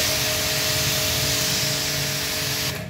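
A jet cleaner air spray gun blasts a loud, continuous hiss of compressed air for nearly three seconds, steady and close, then cuts off abruptly at the end.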